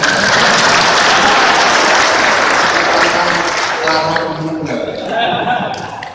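Audience applause at a seminar hall gathering, loud steady clapping that fills the room and fades toward the end with a few chuckles and voices over it.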